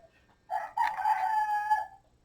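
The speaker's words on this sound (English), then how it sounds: "I'm hearing a chicken." A rooster crows loudly and close by in one long cock-a-doodle-doo, rising and then holding before it cuts off, heard alone with no talk around it.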